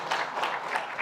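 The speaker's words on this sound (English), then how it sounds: "Can you give her a round of applause" A crowd at a university inauguration ceremony claps for a professor, a short stretch of dense, even applause heard at moderate distance.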